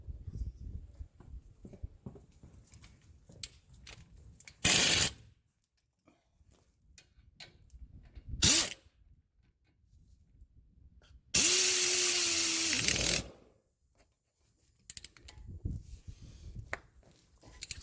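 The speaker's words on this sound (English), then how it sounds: "I'm going to use my air gun" An air ratchet tightens brake caliper bolts on a 2011 Acura MDX in three hissing pneumatic bursts, two short and one longer whirring run, separated by quiet garage pauses.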